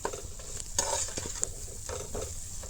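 Mashed boiled potato being stir-fried into a jackfruit pakora curry in a pan, with soft scraping stirs and faint sizzling at a moderate distance, a few sharper clicks of the spoon against the pan.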